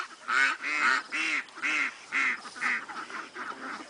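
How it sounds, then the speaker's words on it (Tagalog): Ducks on a Philippine farm where their eggs are being gathered give a rapid run of loud, nasal quacks close by, in roughly eight bursts that keep coming without pause. "Ayun sila, mga itik."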